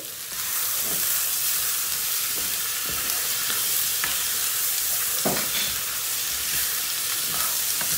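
A vermicelli dish with black pepper, chili flakes and red pepper powder sizzles in a pan under steady hissing. A spoon scrapes and taps now and then as it is stirred, close and without talk.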